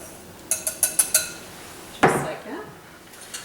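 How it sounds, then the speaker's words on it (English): A whisk stirs flour, salt and leavening agents together in a bowl for a buttermilk batter. About five quick metallic taps ring out close by in a steady rhythm, followed by a single louder scrape-clank and then quiet. "We're going to want to whisk that up just so it's combined."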